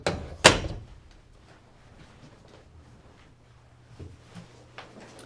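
An office door shuts with a single sharp thunk near the start, followed by quiet room tone and a few faint soft knocks.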